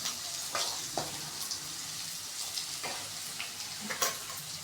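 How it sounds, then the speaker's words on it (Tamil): Crushed, cut ginger sautéing in a hot pan for egg fried rice, a steady soft sizzle with occasional scraping stirs of a spoon, close but fairly quiet, no voices. "அடுத்தது நம்ம கட் பண்ணி நசுக்கி வச்ச இஞ்சி போட்டு நல்லா வதக்கிக்கலாம்."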